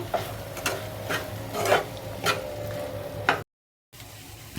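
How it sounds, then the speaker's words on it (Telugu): A spoon scrapes and stirs garam masala through butter mushroom fry in a pan, with several distinct scraping strokes over a soft sizzle, then a brief silence and quieter pan noise. "గరం మసాలా వేసుకున్నాం కదా ఒకసారి అంతా బాగా కలుపుకుందాము"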